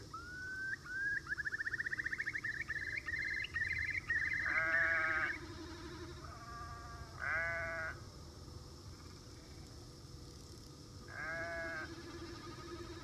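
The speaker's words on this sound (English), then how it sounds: "you start imagining that the sheep are making these sounds like in a planned way, like a sort of orchestra" Sheep bleat in an open field, one long wavering call giving way to several shorter quavering bleats spaced apart, moderately close over a quiet outdoor background.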